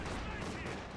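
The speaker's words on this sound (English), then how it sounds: "A strong bunker busting barrage here." Dense, continuous barrage of artillery fire in a World War II strategy game match, a heavy bunker-busting bombardment with overlapping blasts and rumble filling the whole second, with a possible trace of voice underneath.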